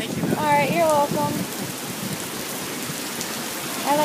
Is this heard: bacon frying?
no